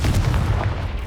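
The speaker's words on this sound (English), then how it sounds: "Confringo!" A Confringo fire spell cast in Hogwarts Legacy erupts as a loud, booming blast with a sustained rumbling roar that stays dense and steady throughout.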